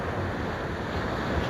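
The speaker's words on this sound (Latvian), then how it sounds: "Jūra." Sea waves and wind make a steady broadband roar with rumbling gusts buffeting the microphone, fairly loud and continuous with no voices.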